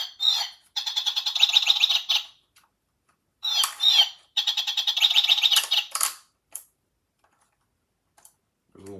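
A battery-powered toy bird chirps electronic tunes in two long, warbling runs of rapid tweets, separated by short pauses. The sound is near and fairly loud, and a faint click comes at the end.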